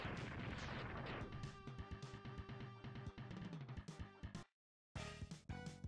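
Enemy shooting in the Mega Man X2 video game, with dense, rapid retro blasts and impacts over game music, a brief silent gap, then more shots.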